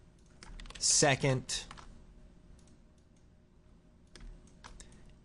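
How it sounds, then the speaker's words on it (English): Keyboard keys clatter in short bursts under a brief spoken word, with a louder run of clicks near the start and scattered taps later, close and moderately loud. "So I'm just going to type first and"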